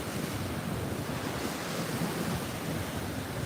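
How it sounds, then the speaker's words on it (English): Ocean waves wash continuously onto a beach, a dense, steady surf roar mixed with wind buffeting the microphone, with no voices. "We're just watching the waves."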